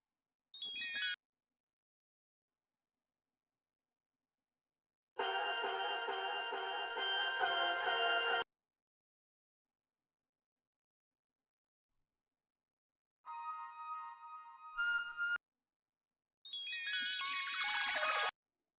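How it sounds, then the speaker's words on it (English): Several separate electronic tone bursts with silences between: sweeping synthetic zaps at the start and end, plus sustained buzzy electronic tones in the middle. "we're gonna get that self-destruct sound effect"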